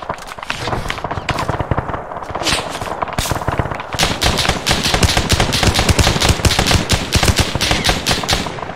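Dense gunfire fills an ArmA 3 battle for the trenches at Omaha Beach, with rapid automatic bursts and overlapping shots that grow heavier and continuous, loud and close.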